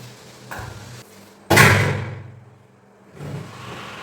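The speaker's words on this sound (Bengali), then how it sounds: "আমার নিচে কাজ হচ্ছে তো খুব আওয়াজ আসছে, খুব এমন ধুমধাম আওয়াজ হচ্ছে শুনছেন" A single heavy bang rings out from construction work in the flat below, with softer knocks before it and a muffled rumble afterward, heard indoors at a moderate distance.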